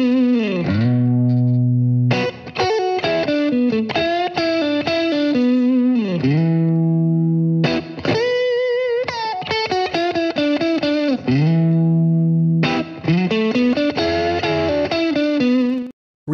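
An electric guitar plays through the presets of an LT25 digital modeling amp, strummed chords and single notes ringing out with effects and distortion, phrases separated by short pauses, with no voices.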